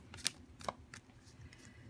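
Tarot cards being shuffled close by, a few crisp riffling bursts and soft slaps spaced across a quiet background.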